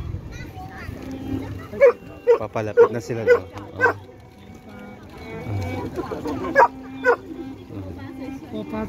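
A small dog barks and yips in short, sharp bursts, several quick ones in a cluster and a couple more later, while people talk nearby in a crowd.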